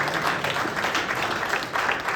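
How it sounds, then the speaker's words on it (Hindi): A church congregation at a missionary conference breaks into applause, dense clapping from many people filling the room evenly throughout, loud and close with no speech over it. "तालियों के साथ इस वचन का स्वीकार करें।"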